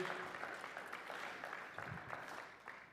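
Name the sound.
audience applause in church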